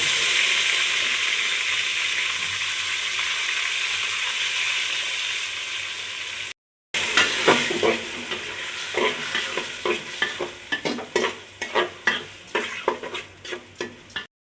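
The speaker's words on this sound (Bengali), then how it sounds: "এখন ভালো করে পোলার চালগুলোকে ভেজে নেব।" Pulao rice fries in a pan with ginger juice. It starts as a steady hiss, then after a brief cut comes a run of rhythmic scraping stir strokes over the sizzle, getting louder and more regular toward the end, with no speech.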